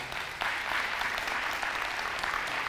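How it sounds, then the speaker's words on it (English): A summit audience gives a speaker a round of applause, a thick continuous patter of many hands clapping at an even level for a few seconds. "let's give her another round of applause."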